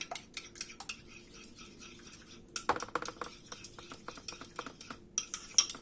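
Börek filling mixture being whisked briskly in a bowl, a quick run of light metallic clicks and taps against the sides, fairly close, with short pauses between bursts and no talking.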